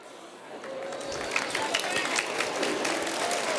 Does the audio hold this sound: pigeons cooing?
no